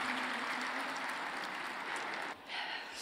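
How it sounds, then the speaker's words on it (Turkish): A congress crowd at a Fenerbahçe club meeting applauds a member, with sustained dense clapping filling the hall at a steady level and dipping briefly near the end before swelling again; no speech. "Biraz alkışı fazla yapın Oktay'a."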